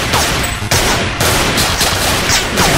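Rapid gunfire from the flash fighting game Thing Thing Arena, dense bursts of shots crackling continuously and loudly with no pauses, along with game sound effects.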